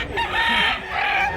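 A rooster crows nearby, a short raspy call that rises and falls, with faint background noise and no talk.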